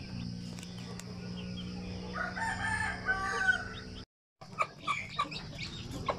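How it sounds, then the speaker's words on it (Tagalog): A rooster crows repeatedly near a brooding area where Basilan-breed chicks are being settled into a new nest, loud over a steady low hum and background barnyard noise, with a brief silent gap before more calls. "ipupugad po natin itong ating mga sisiw ng basilan"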